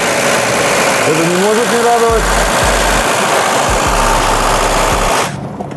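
A petrol engine running on year-old gasoline idles and revs steadily, a loud continuous drone with rough low-end pulsing, while people talk over it before it cuts off near the end.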